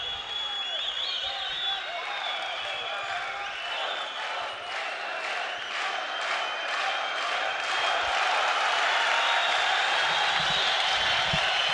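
The crowd in a boxing arena at the AIBA World Boxing Championships cheers and roars steadily, swelling louder toward the end, with whistles and shouts rising above it.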